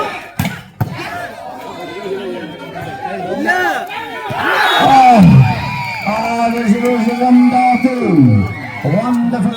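Crowd at a volleyball final in an Indian Army versus KSEB match, cheering and chattering in a loud, swelling roar with shouts and whoops, alongside commentary.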